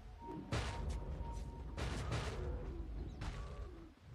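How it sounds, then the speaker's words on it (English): Earthshaker's heavy thudding slams in the Dota 2 video game, with several distinct booming impacts spaced about a second apart over steady game noise, moderately loud, no talking. "Satisfying sounds of thudding"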